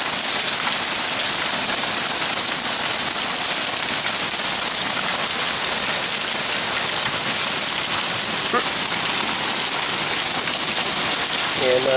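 Heavy rain and hail falling outdoors in Bend, with rain gutters filled with hail; a loud constant roaring patter, dense and close, with no break throughout.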